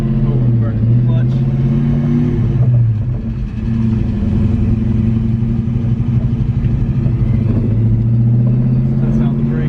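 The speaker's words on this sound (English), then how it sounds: "Oh, we're burning the clutch." A Cobra car's engine drones loudly and steadily in a high-revving burnout while the clutch slips, with the pitch dipping and rising, and people talk inside the car over the engine noise.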